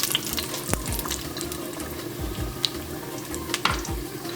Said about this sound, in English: I like to always crack open my cardamom. And I'm gonna add my bay leaves. I'm gonna wait this to fry a little bit.